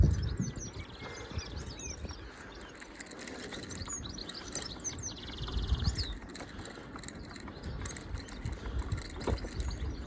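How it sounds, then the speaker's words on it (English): Birds chirping and calling along the River Trent, several faint scattered tweets over a steady outdoor rumble of wind and background noise. "I can hear the birds over this side."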